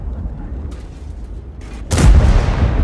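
A tank cannon in the World of Tanks video game fires once, a sudden heavy boom that cuts through low rumbling ambience and leaves a sustained loud roar afterward.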